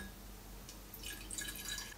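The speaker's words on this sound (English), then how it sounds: "I will pour the entirety of this solution into the separatory funnel." A chemical solution is poured from glassware into a glass separatory funnel in a home lab, first a quiet trickle, then a brighter splashing, dripping flow toward the end.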